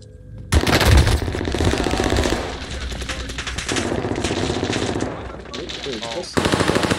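Sustained machine-gun fire in Call of Duty on Rebirth Island, loud and dense bursts running almost without pause, with a voice briefly audible beneath the shooting.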